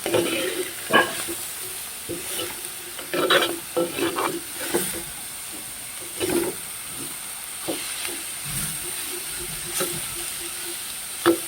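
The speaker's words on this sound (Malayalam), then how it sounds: "നല്ലതായിട്ടൊന്ന് ഇളക്കി യോജിപ്പിക്കാവേ" A spoon scrapes and stirs through food sizzling in a hot pan, irregular clatters over a steady frying hiss, with no voices.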